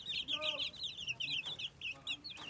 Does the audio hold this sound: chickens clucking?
yes